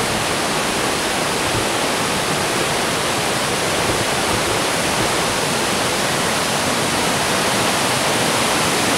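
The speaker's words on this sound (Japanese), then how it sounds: "滝の上に出てるんですね。" A waterfall at Kawazu Seven Falls in Japan gives a dense, steady roar of rushing water. It stays loud and unbroken throughout, with no voices.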